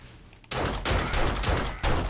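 Rapid automatic pistol fire fitted with a full-auto mod in the zombie survival game 7 Days To Die, a dense loud burst of overlapping shots after a brief quiet start, running continuously to the end.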